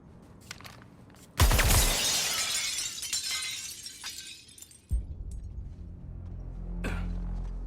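Glass shatters loudly in Suicide Squad Kill the Justice League, a sudden bright crash of breaking panes with tinkling debris trailing off, then a second heavy thud and lingering crunch.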